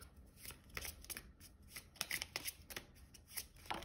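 Tarot cards being shuffled by hand, a series of quick soft riffling flicks and slaps in irregular bursts, close but quiet, with no speech.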